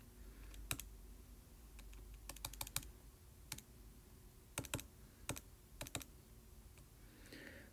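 Sparse keyboard typing, a few isolated key clicks and short bursts of quick taps with pauses between, over a low steady room hum.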